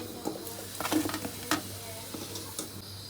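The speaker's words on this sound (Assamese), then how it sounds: "এই আলুকেইটা অলপ হাফ ফ্ৰাই কৰি লওঁ" Potato pieces half-frying in hot oil for Assamese catfish curry, a crackling sizzle close up with scattered stirring knocks and scrapes in the pan.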